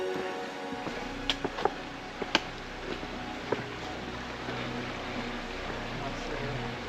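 A small creek flows through the Tasmanian wilderness on the Frenchmans Cap hike, a soft, steady water hiss with a few faint clicks and knocks over it.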